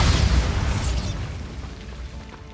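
The Bombarda exploding spell goes off in Hogwarts Legacy, blasting a poachers' blockade: a loud, close boom at the start that rolls into a long, fading rumble, with no talking.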